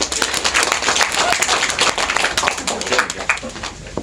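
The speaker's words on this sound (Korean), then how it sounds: "박수 좀 쳐주세요" Lively clapping from a student audience at a special lecture on proper sitting and standing posture, brisk and close, with some voices mixed into the applause.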